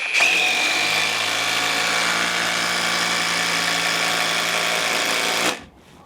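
A Procraft Industrial ID20A screwdriver runs steadily for about five seconds driving a screw into wood, a continuous close whirring motor tone with a brief high whine at the start, then cutting off abruptly.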